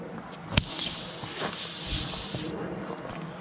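Air escapes from a leaking car tire in a steady, bright hiss that holds for about two and a half seconds, with a sharp click near the start, then drops away to quiet.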